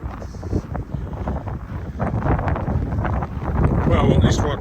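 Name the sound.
wind on a snowy pre-dawn walk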